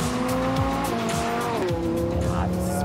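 Lamborghini accelerating hard in sport mode, engine pitch climbing and stepping through gears with some tire squeal, loud and continuous with no talking.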